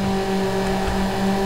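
A car engine in Need for Speed: Underground holds a steady mid-pitched drone after a badly timed gear change, the car losing speed with no clear rise in revs.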